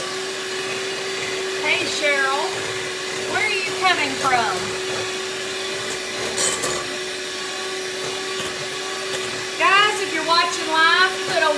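An electric mixer whirs steadily while blending keto chocolate lasagna, its motor hum running through the whole stretch beneath a woman's casual chatter.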